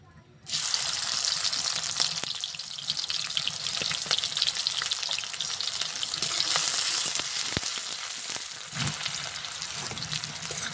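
Chopped onion hits hot mustard oil in a kadai with a sudden, loud, steady sizzle that keeps crackling evenly throughout, with faint clinks from stirring underneath.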